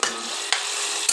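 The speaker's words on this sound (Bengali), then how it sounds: "চিকেনের ছোটো ছোটো টুকরো করেছি, করে দই দিয়ে মাখিয়ে রেখে দিয়েছিলাম ম্যারিনেট করে প্রায় 2 ঘন্টা মতন, দিয়ে একটুখানি আগে ভেজে নিচ্ছি।" Small yogurt-marinated chicken pieces frying in oil, a steady close sizzle with a couple of brief stirring scrapes, no talk.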